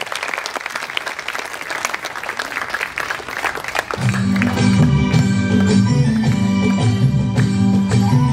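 Audience at a festival stage at Murthal Mahotsav clapping, a loud dense spatter of applause that grows even louder and fuller halfway through as music starts underneath.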